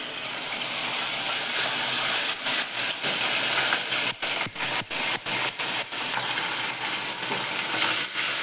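Ginger garlic paste fries loudly in a kadhai, giving a strong, steady sizzling hiss with short rhythmic gaps and scraping as it is stirred.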